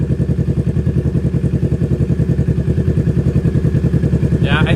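A Honda, Triumph or Kawasaki motorcycle engine idles loudly and close by, with a steady, even pulsing throb throughout.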